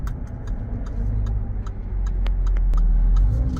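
A 2015 Jaguar F-Type V8 S engine idles and revs loudly up close, with sharp popping crackles bursting from the exhaust at irregular intervals.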